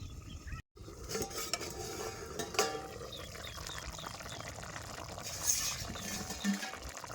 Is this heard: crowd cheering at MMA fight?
no